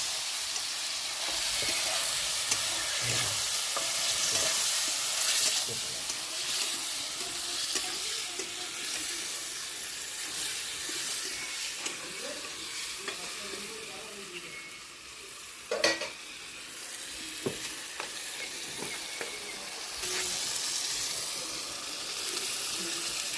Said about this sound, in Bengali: এবার টমেটোর পেস্ট দিয়ে দিলাম।